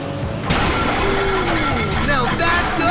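A failing boat engine in GTA V makes a strained, grinding mechanical noise with rattling, whining pitch sweeps and clanks, loud and close for a few seconds.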